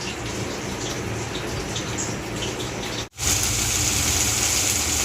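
Steady rain pouring down at home, a dense continuous hiss that cuts out for a moment and then returns slightly brighter and louder.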